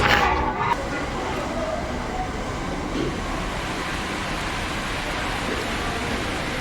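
Steady rain falls in a broad, even hiss for the whole stretch, loud and continuous, with a brief brighter burst at the very start and no speech.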